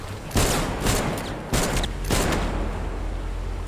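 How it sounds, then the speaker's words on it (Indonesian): Gunfire in a Korean drama action scene: several loud, close shots and bursts ring out in quick succession over a steady low rumble, with no talking. "Dia mulai menembak."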